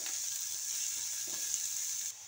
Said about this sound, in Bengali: ঢাকা দিয়ে দিয়ে ভালো করে পেঁয়াজটা ভেজে নেব